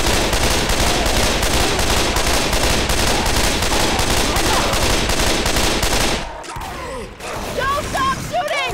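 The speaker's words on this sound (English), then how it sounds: "Don't stop shooting!" Sustained, dense automatic gunfire from weapons in Left 4 Dead 2 during a Tank fight on the Great Wall, loud and continuous for about six seconds before cutting away to scattered sounds, with shouting voices over it.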